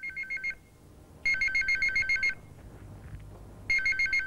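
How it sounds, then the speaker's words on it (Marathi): A telephone rings in repeated electronic trilling bursts, each a rapid pulsing tone, with pauses between rings; the ringing is clear and fairly close in a quiet room. "अहो फोन वाजतोय."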